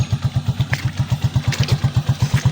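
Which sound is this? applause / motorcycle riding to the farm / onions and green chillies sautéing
motorcycle riding to the farm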